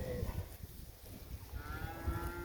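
Cows mooing in a pasture, one or two drawn-out lowing calls close by over low rustling outdoor background.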